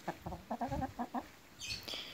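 A Marans hen clucks in a quick run of short, throaty notes, pauses, then gives a couple more clucks, close by with a faint higher squawk at the end.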